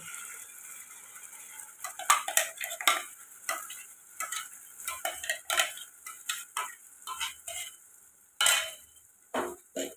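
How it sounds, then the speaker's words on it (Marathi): Ground coconut paste being stirred into a pot for a Malvani-style dried-fish curry, with a run of scraping, clinking spoon strokes against the pot over a faint sizzle, loudest in bursts through the middle and near the end. "आता हे खोबऱ्याचं वाटण त्यात टाकायचं आहे."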